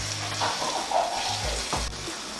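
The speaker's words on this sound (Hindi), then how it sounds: "4 से 5 मिनट मैंने अब कीमी को टमाटर के साथ भी भूना है" Minced meat fries with tomatoes and spices in a pan, a steady broadband sizzle running throughout with faint stirring scrapes and clatter on top, fairly close and loud, no voices.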